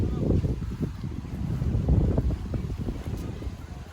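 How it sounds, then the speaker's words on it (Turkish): Gusty wind buffets the microphone with a low rumbling roar at Küçüksu Pavilion in Beykoz, Istanbul, steady and close, with no clear voices. "Rüzgar çıktı ya o tarafa gidiyor."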